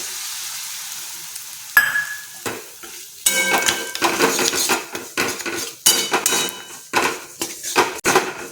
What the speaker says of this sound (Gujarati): ગોળને આપણે સતત હલાવતા રહેવાનું છે।